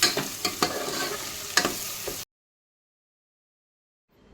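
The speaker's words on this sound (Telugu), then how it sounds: "అండ్ దెన్ మిర్చి వేసి గోల్డెన్ బ్రౌనిష్ కలర్ వచ్చే వరకు ఫ్రై చేసుకోవాలి" Chilies and onions fry in oil for an Andhra-style crab curry, giving a close sizzle with sharp stirring clicks for about two seconds before the sound drops to silence.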